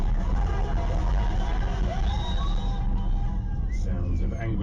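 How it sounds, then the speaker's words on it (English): A crowd of earthquake survivors in Kathmandu shouts and murmurs in a loud, restless babble. A voice talks over the crowd noise. "an angry crowd gave vent to their frustration"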